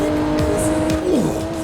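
A Porsche 911 GT2 engine in Forza Horizon 4 revs hard, its pitch climbing and dropping sharply between gear changes, loud and close with a brief tire squeal.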